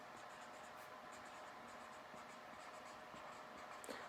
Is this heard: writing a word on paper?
yes